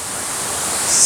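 Yaka waterfall at a waterfall park in Seydikemer, Muğla, gives a continuous hiss of falling water, fairly loud and steady, swelling slightly at the end, with no talking.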